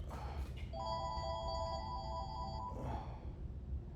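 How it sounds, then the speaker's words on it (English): A phone rings during a class, a single electronic ringtone tone held for about two seconds, moderately loud, between soft background noise with no talk. "ignore that phone ringing here"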